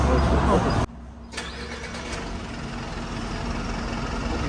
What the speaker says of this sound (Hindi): Now engine is idle.